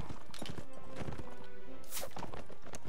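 Armored horses gallop through a battle in the video game Mount & Blade Warband, with rapid hoof clip-clops, a whinny and loud clashing noise building toward the end.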